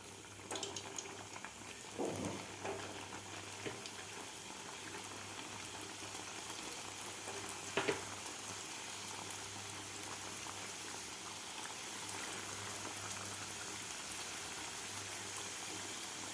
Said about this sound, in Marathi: तर दुसरीसुद्धा बॅच आपण तळून घेऊया